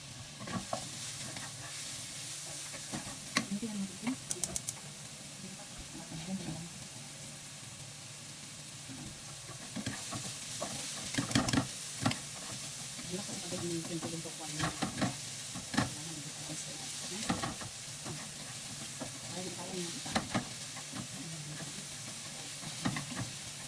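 Garlic and onion sautéing together in a pan: a steady sizzle with repeated stirring and scraping strokes, close and fairly loud, with sharper clatters partway through.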